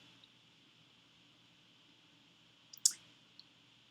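A computer mouse gives a couple of faint, sharp clicks against a quiet, hissy background, with a few softer ticks scattered before and after.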